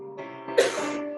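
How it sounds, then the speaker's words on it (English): A single sharp cough bursts out midway, set against sustained, ringing musical notes that continue softly underneath. "Sorry, I had a cough."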